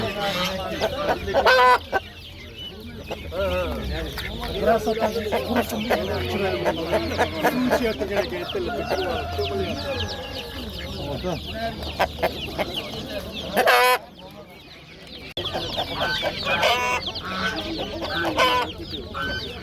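Dense clucking and crowing from many chickens and roosters fills a poultry market in Jomashuy, continuous and close, with people talking faintly underneath and a brief sharp noise near the middle.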